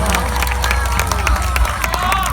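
At a pig racing event in Alaska, a crowd cheers and shouts for a racing pig, with a dense, lively roar of voices and scattered clapping that keeps going throughout, close and loud.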